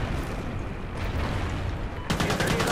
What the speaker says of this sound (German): Und erstmal ins Leere schießen.